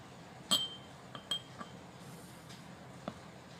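Glass clinks against glass as lemon juice is poured into a small clean glass at a table, a few sharp, separate chimes spaced over a few seconds over a quiet background.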